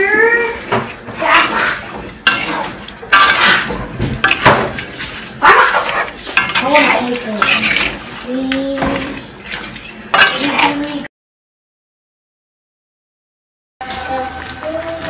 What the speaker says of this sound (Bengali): ভালো করে এটাকে মিক্স করে নিচ্ছি।